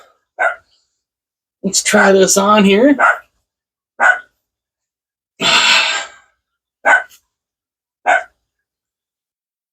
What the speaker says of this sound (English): as one of the dogs go crazy